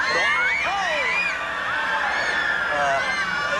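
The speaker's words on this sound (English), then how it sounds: "Don't worry about all that screaming. That's just another test audience." A test audience screams and shouts at an Epcot attraction, a dense, loud wash of high, wavering voices that carries on without pause, with some talk mixed into the din.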